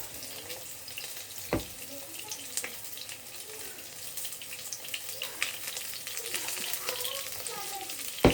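Shrimp fritters sizzle steadily in oil over a low flame, a soft continuous crackle with a sharper pop or two and faint watery clinks in the background.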